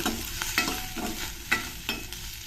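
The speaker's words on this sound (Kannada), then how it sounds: "ಅದ್ರ ಜೊತೆಗೆ 1 ಸ್ಪೂನಷ್ಟು ಜೀರಿಗೆ ಸೇರಿಸ್ತೀನಿ. ಇದನ್ನು ಸ್ವಲ್ಪ ಫ್ರೈ ಮಾಡ್ಕೊಳ್ಳೋಣ." Cumin seeds fry in oil in a pan with a crackling sizzle. Quick, evenly spaced stirring strokes scrape across the pan, and there is no speech.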